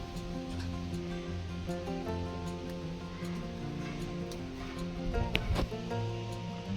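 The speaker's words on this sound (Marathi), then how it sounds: "आता ही भाजी नाही का व्यवस्थित निवडून घेतो आणि व्यवस्थित धुवून घेतो" Wild chitruk leafy greens being washed in water, a steady continuous splashing and sloshing with a brief louder burst of water near the end, with no talking.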